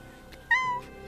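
An indoor cat gives a single short, clear meow partway through, fairly close and alone against a quiet room.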